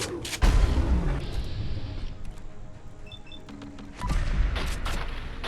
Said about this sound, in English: I'm putting a bunch of 12 gauge slugs in your head repeatedly